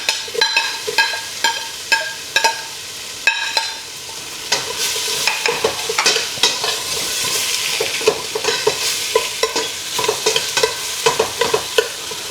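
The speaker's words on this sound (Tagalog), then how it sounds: "Saute lang natin siya ng few minutes." Sliced onions sauté in a hot pan, a steady sizzle and frying hiss broken by repeated scraping and clacking strokes as a spatula stirs them, close and continuous.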